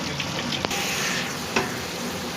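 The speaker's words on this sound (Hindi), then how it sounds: "इसको तकरीबन हम 5 से 10 मिनट के लिए अच्छी तरह इसको भूनेंगे हल्की आंच पे" Beef koftas fry over low heat in a tomato-onion masala, giving a close, steady sizzle broken by a couple of brief spoon clicks; no one speaks.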